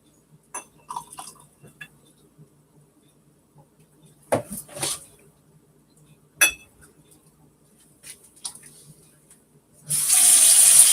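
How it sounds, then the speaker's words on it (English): Fresh water poured from a teapot into a cup in a home kitchen, with soft clinks of china and cutlery, brief splashes, and a steady pouring stream rising near the end; no talk. "And I'm going to add water to my cup"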